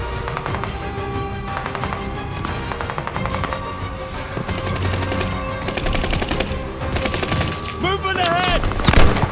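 Sustained automatic gunfire in Call of Duty Vanguard's campaign, dense rapid bursts layered with explosions and battlefield din, loud and continuous throughout with a rising whine near the end.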